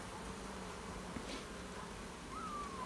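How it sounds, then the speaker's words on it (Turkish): Honeybees buzz around an open hive frame with drones present, a steady close hum filling the background with no speech. "Aşağıda erkek arılar da var."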